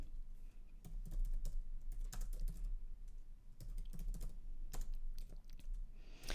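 Steady, brisk computer keyboard typing while writing CSS code, clustered bursts of close clicks running throughout with a low background hum.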